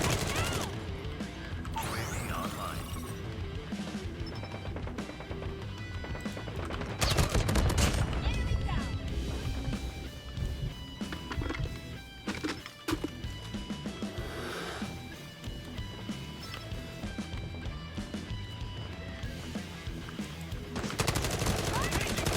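Rapid bursts of automatic and single-shot gunfire from the Call of Duty Mobile shooter game, dense and loud throughout against a layer of game music and effects, with several heavy volleys and crashes.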